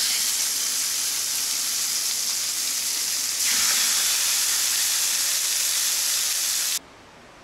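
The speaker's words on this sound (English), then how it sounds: "I'm just gonna pan fry the meat now" Strips of marinated beef searing in a hot pan, a loud continuous broadband hiss that swells partway through and then cuts off abruptly, with no voices.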